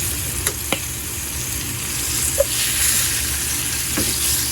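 Breaded rabbit pieces sizzle steadily in an electric skillet, a constant close frying hiss with a few light clicks and scrapes from turning the meat.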